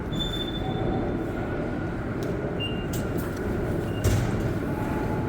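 Montreal metro Orange Line station at night, heading toward Montmorency: a steady low rumble of a train fills the whole stretch, with a few faint high squeals and clicks overhead and one brief louder bump near the end.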